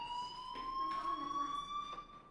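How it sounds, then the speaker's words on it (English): A fire alarm in the Life is Strange video game rings with a steady high electronic tone, pulsing slightly and sounding fairly faint, with voices murmuring quietly beneath it. "do you hear that fire alarm?"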